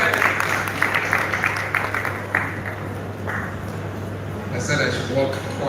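An audience at a renewable-energy conference in Lagos claps softly and unevenly as someone approaches the podium, with the applause sitting beneath a speaker's voice over the PA.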